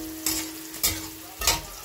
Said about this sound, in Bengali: এই দেখো, আমার বিনসটাও ভাজা হয়ে গেছে